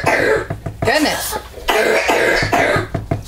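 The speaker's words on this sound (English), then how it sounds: "Coughing up lung over there." Several harsh, close coughs in quick bursts, with a bit of voice and throat noise between them.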